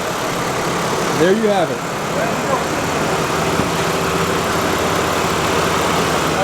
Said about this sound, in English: people don't like listening to these rattling diesels anymore